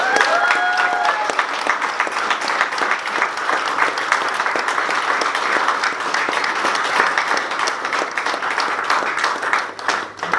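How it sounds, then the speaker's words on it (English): An audience at an anti-racism anniversary event gives a long, full round of applause, steady dense clapping from many hands that tapers off near the end. A faint voice is audible briefly at the start. "I think she deserves a great round of applause."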